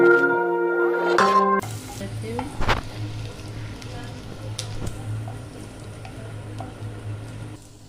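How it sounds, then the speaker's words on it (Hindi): Paneer roll filling fries in a pan with a steady close sizzle and occasional stirring clicks. A brief tonal musical sound opens before the frying dominates. "थोड़ा सा फ्राई करना है, ज़्यादा नहीं।"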